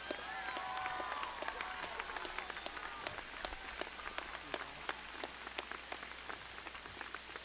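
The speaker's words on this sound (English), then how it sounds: "Let's give a round of applause for Carlos." Audience at a high school graduation ceremony clapping steadily, a dense patter of many hands sustained throughout, moderately loud and even, with a faint voice early on.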